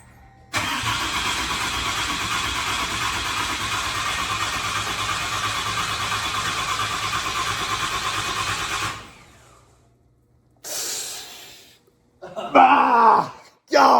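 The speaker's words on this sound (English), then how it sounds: "He's gonna go ahead and start the truck," A truck with a newly installed Monster Ram intake cranks for several seconds in a loud, steady churn, then stops without catching. After a pause come a couple of shorter bursts of cranking or sputter.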